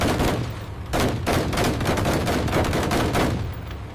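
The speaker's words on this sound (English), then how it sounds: "The lead gunner opens fire before the enemy can strike." Dense, rapid machine-gun bursts from a B-25 bomber gunner rattle loud and close for the whole stretch, with sharp overlapping shots and brief gaps between volleys.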